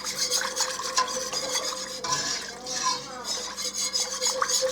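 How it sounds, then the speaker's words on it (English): Loaded baked potato soup being stirred in a pot at a low boil, a steady scraping and sloshing of spoon against the pan bottom with occasional clinks, close and continuous. "I'm just going to keep stirring this"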